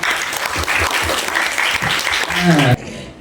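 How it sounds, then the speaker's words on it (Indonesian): Talk-show audience claps in a bursty, rhythmic way under an excited host's voice, then the applause cuts off abruptly near the end. "Tepuk tangan dong buat Semanik"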